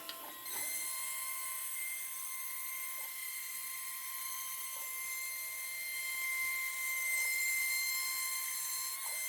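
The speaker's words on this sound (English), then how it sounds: "I'm going to throw that one up on the CNC next and cut that piece." A CNC router cutting a piece of MDF or hardboard for a router table gives a steady high whining drone that starts abruptly and holds for about nine seconds, with small pitch dips as the cutter changes direction. No voices.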